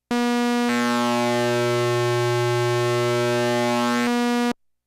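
Steady synthesizer tone with a saw waveshape shifting toward a variation of the saw, a bright buzzy sustained pitch with a timbral change partway through that returns near the end, alone and loud.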